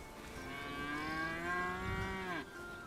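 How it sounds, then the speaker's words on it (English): In the video game Bellwright, a cow gives one drawn-out moo, rising and then falling before breaking off, moderately loud over a steady ambient background with no talk. "Cows."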